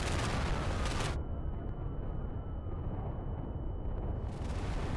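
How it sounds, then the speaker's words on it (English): A deep, sustained roar of heavy explosions from a bombing run in the WW2 video game Day of Infamy rumbles continuously, dense and loud, with a brief dip in the upper hiss before the blast noise swells again. "the earth-shattering explosions of a bombing run"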